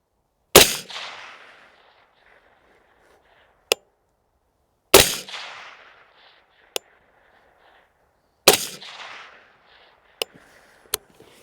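Three loud, sharp rifle shots at even intervals ring out outdoors during ammunition testing with a Hi-Lux CMR8 1-8x fiber dot scope, each followed by a short decaying echo, with faint distant metallic target hits trailing after the shots.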